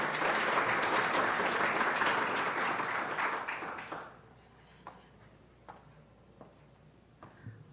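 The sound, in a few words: applause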